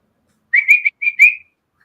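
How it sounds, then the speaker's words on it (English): A person whistles two short, bright melodic phrases with a brief pause between them, clear and close against silence. "Whistle."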